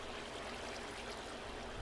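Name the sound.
flowing water in the video game Minecraft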